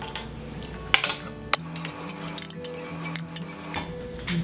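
A utensil clinks and scrapes against a pot while anchovies are scooped out of broth for Korean fish cake soup, with scattered metallic taps close by and no talk.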